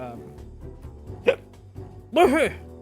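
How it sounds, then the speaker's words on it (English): Hiccups come as two short, sudden bursts, the second stronger, amid a streamer's chatter. "Don't start with me, hiccups."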